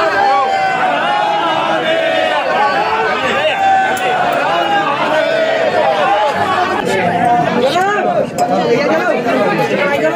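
A large, packed crowd of devotees at Omkareshwar temple fills the space with steady, dense chatter and babble, voices overlapping close by with occasional clinks, loud and continuous throughout.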